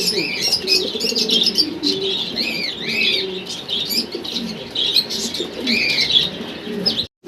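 Grey barless Lahori pigeons coo and chirp repeatedly at close range, with soft wing flutters among the birds throughout a steady, busy stretch.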